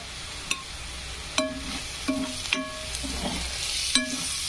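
Ground coriander, Kashmiri chilli and garam masala are sautéed with fried onion in a pan, giving a steady soft sizzle broken by several sharp clinks of a spoon against the metal, with no voices.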